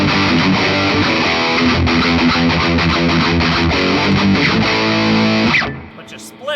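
A loud, heavily distorted baritone electric guitar, a 2010 Gibson Les Paul Baritone Buckethead Signature on its full-coil pickup, plays a dense riff continuously, then cuts off abruptly near the end.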